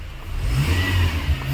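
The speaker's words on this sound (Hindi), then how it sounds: "गाड़ी अच्छा रेस भी हो रहा है" A Tata Indica car engine revs steadily up close, a loud low rumble holding through the whole short burst with no talk over it; the car had a wiring short circuit and a check engine warning that has since cleared.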